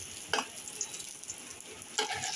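Flour and egg snacks fry in hot oil on a low-medium flame, giving a faint, steady hiss broken by two brief scraping stirs.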